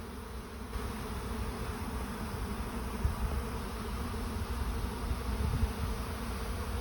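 A mid-summer honeybee swarm fills the air with a faint, continuous buzzing hum, many bees droning at once without pause.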